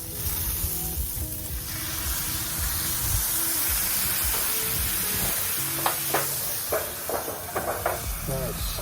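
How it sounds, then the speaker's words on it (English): Vegetables hissing and sizzling in a pan after a splash of water is added to steam them during outdoor cooking, a steady soft sizzle with a few light clinks and stirring noises near the end. "Just put down a little water because I can kind of steam this."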